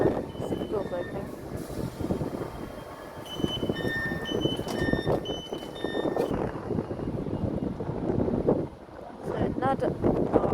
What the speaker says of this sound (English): See the doors opening.